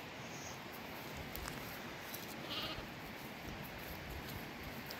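Lambs out with their mothers give a single faint, distant bleat midway, set against a steady outdoor hiss.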